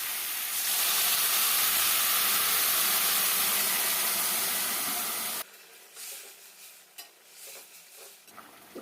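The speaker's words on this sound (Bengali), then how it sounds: "এবার দিয়ে দেবো পরিমাণ মতো গরম জল" Hot water goes into a pan of frying bottle gourd, potatoes and snakehead fish curry, setting off a loud, continuous hiss and sizzle for several seconds before it cuts off to quieter bubbling and stirring.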